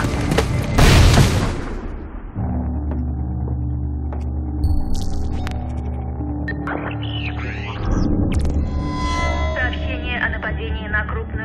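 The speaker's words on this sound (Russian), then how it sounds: "Граната!" A grenade blast in the Splinter Cell: Blacklist video game sounds as a loud burst followed by a low, booming rumble and hum, with further distant thuds and crackling over continuous background drone and game voices.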